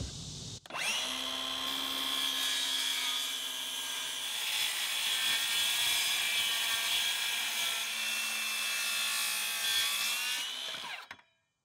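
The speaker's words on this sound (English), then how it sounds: "I'll make the cut with my circular saw" A circular saw rips through a board on a workbench while building a fish cleaning table, a loud sustained whine that spins up, holds steady for about ten seconds under load, then winds down and cuts off.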